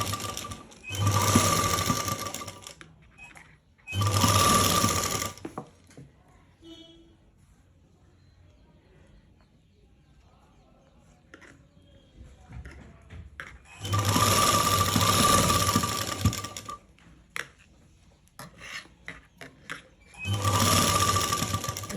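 Sewing machine stitching fabric while attaching lace, in four loud, steady whirring bursts of a few seconds each, separated by quiet pauses with faint handling noises, close up.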